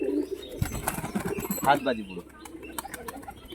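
A female pigeon held in the hand gives soft coos and a brief flutter of wings, close by. Someone talks over most of it.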